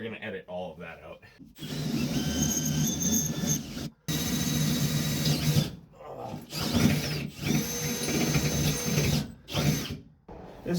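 A power drill with a worn bit runs in long, strained bursts with a rough grinding whine, pausing briefly between runs, while people talk underneath.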